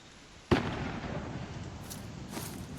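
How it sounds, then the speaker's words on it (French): Arc star grenade detonating in a first-person shooter video game: a sudden loud burst followed by a crackling, fizzing tail with a couple of fainter bursts later, no talking. "on va jeter des étoiles arc ici"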